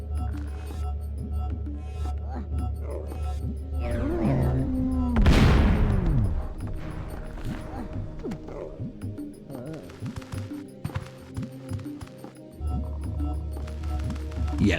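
A bomb going off in Oddworld: Abe's Oddysee, a single loud burst around the middle that decays over a couple of seconds, surrounded by ambient game sounds and a low hum.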